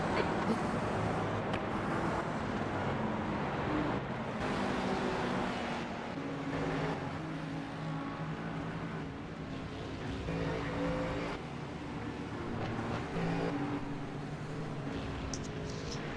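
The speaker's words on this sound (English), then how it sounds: "Race car has just left." Steady GT3 race car engine drone from the iRacing sim at Watkins Glen, with broad rumbling tones running continuously at an even level rather than clearly receding, no talk over it.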